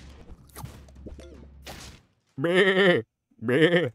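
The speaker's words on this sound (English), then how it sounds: "You have a goat sound redeem and magic." Two loud bleating goat calls from a played sound effect, each about half a second, following some quieter voice and background noise.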